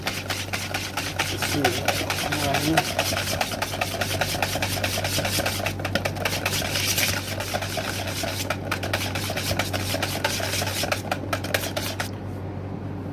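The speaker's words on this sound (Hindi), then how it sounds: "दही भल्ले के लिए दही को फेंट लेंगे।" Yogurt is whisked briskly in a bowl for dahi bhalla, with a fast, continuous scraping and tapping rhythm that runs steadily up close for the whole stretch and stops near the end.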